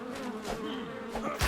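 Mosquitoes in ARK: Survival Ascended Genesis give a thin, wavering insect drone that hums continuously for a moment, fairly quiet with faint background game ambience.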